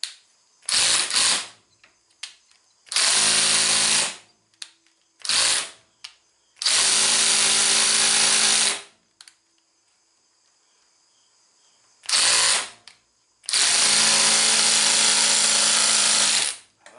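A small impact drill hammers at a stuck breech plug on a muzzleloader rifle fitted with a scope, running in several loud bursts of about one to two seconds each, separated by quiet pauses and brief clicks.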